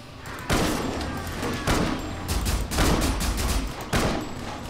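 Sniper rifle fire in the video game Primal Carnage: Extinction, several loud, sharp cracks in rapid succession, each bursting out and ringing briefly before the next shot, with heavy reverberant booms between.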